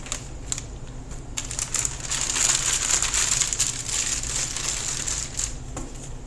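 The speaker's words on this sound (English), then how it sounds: "we're gonna just squeeze our colors directly into the bag, one on each side" A plastic piping bag crinkles and crackles steadily as icing colors are squeezed into it, one on each side for a two-tone swirl, a close, continuous rustle that grows slightly busier midway.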